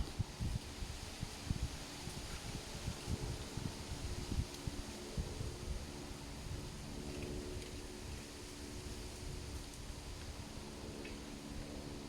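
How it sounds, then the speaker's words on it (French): Steady wind blows outdoors in a gusty, rumbling wash of broadband noise that buffets the microphone low down, continuous for the whole stretch with no talk. "Il y a du vent, hein."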